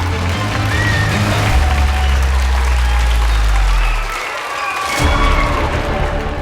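Audience applause welcoming a magician on stage, a dense steady wash of clapping with a low musical drone beneath, dipping briefly before swelling again.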